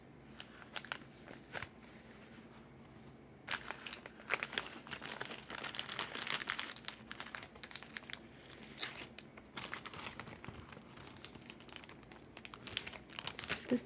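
Cardboard or plastic patient marker tokens for the board game Healthy Heart Hospital being shuffled inside a cloth bag, a close, continuous crinkly rustle and clatter in irregular bursts with brief pauses.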